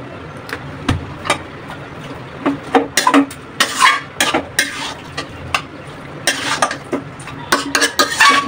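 Spices are mixed by hand into food in a bowl, giving a steady run of soft squelching, scraping and light clinking against the bowl, close and continuous with irregular bursts.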